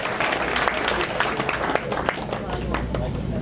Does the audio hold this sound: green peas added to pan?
no